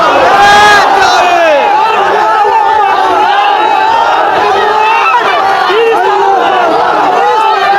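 A large crowd at an outdoor religious gathering roars the takbir together, a dense, loud mass of voices sustained throughout with overlapping shouts and no pause.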